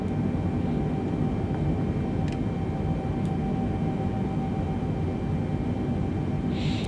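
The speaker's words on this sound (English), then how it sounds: "the plane will start descending" Jet airliner engine noise from Microsoft Flight Simulator during a descent into Montreal, a steady, loud, broadband rumble with a faint constant tone that holds unchanged throughout, with no speech.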